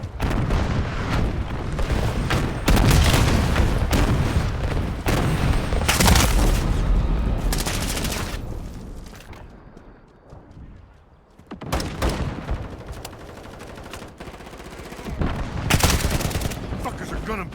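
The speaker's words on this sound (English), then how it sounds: "Enemy shots fired!" Gunfire in a Call of Duty Modern Warfare multiplayer match: loud, dense bursts of automatic fire and heavy booms, with a brief quieter lull midway before the shooting resumes, game radio voices mixed in.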